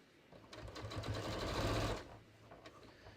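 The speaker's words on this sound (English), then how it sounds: "I'm just going to sew off the edge" A sewing machine stitches along the edge of jeans at the knee, a fast steady whir that builds for about a second and a half and then stops, fairly close and alone.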